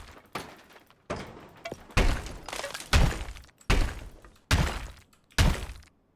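Walls being smashed in Deconstruction Simulator: a series of about seven heavy, loud impacts land at a steady pace, each a sharp crack and crumble of breaking material that trails off briefly before the next blow.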